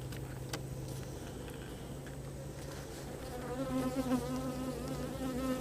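A steady, dense buzz of many honeybees around an open hive close by, rising a little in loudness toward the end, with no talking.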